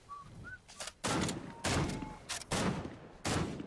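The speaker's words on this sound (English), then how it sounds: "Oh, I'm getting shot!" Video game gunfire crackles in several short, loud bursts, each a rapid volley of shots with brief gaps between, close and harsh.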